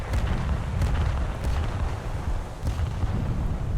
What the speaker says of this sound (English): We'll fire off another volley of rockets, and he's gone down.